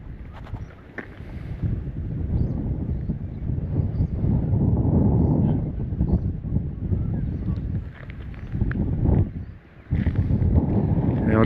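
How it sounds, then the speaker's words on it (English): Gusty wind by the Murray River in Australia buffets the microphone in rough low rumbles, easing briefly and then surging again, with no clear talking. "I'll just head back out of the wind."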